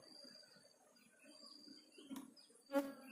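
A colony of Asian honey bees (Apis cerana) hums in a low, steady drone, faint and close, as the bees are moved into a small box, with a couple of brief louder buzzes from individual bees passing nearby.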